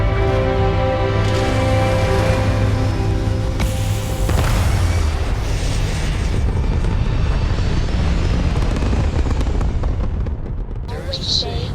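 A spaceship lifting off in the Starfield video game, its engines building a loud, sustained rumbling roar with booming surges that continue for several seconds before easing off.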